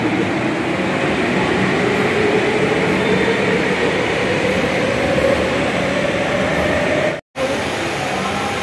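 A Kolkata metro train pulls out bound for Dakshineswar, a loud, steady rumble and hiss with a slowly rising whine as it gathers speed. The sound cuts out briefly near the end, then resumes.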